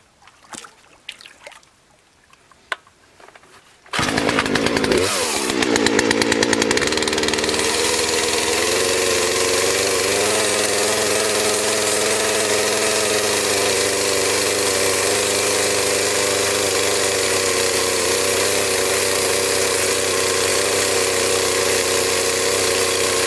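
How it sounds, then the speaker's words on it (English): After a few seconds of quiet knocks, a chainsaw fires up and runs loud and steady close by, flattening a red cedar log for a farm bridge, its engine holding an even drone throughout. "Now we're going to turn the saw back on and just simply flatten that up a little bit."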